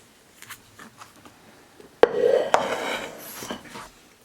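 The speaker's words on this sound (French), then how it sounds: "Donc maintenant, je mets une assiette par-dessus et je retourne." A plate set over a flan mould and flipped, giving a sharp ceramic clack followed by a second knock and rattling, scraping handling of the dish at close range, with no voices.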